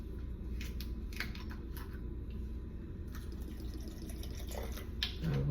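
Water is poured into a blender jar for a smoothie, a soft, low, steady trickle heard close up in a quiet kitchen, with a few light clinks and taps over it.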